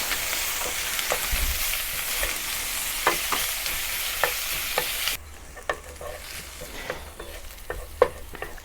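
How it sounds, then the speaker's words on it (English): Onion sautéing in vegetable oil in a pan for beef goulash, a steady close sizzle and frying hiss broken by occasional clicks of stirring, quieter in the last few seconds. "Heat some vegetable oil in a pan and then saute the onion until it starts to caramelize"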